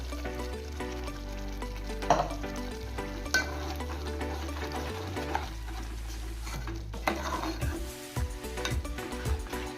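Masala is tipped into a boiling gravy in a home kitchen and stirred through, giving a steady bubbling simmer with repeated spoon scrapes and clinks against the pot, close by and without talk.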